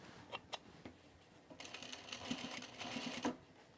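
A sewing machine backstitching, a few faint taps followed by a steady quiet mechanical whir that runs for a couple of seconds and stops.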